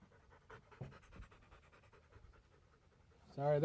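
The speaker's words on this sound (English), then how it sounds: "they're hunting dogs, so they like to chase the bullets" Hunting dogs pant in quick, soft rhythmic breaths close by, faint and steady, until a voice comes in at the very end.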